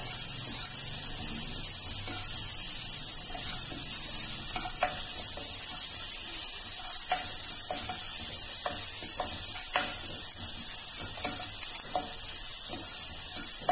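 Ground masala fries and browns in a pan for a chicken-vegetable kurma, giving a loud, steady hiss of sizzling oil with occasional soft scrapes of stirring, close by and without talk.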